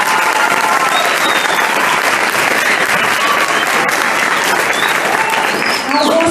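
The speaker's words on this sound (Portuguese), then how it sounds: "Uma salva de palmas, por favor." Loud, sustained applause from a large crowd at a wushu show fills the space, steady clapping with scattered cheers throughout.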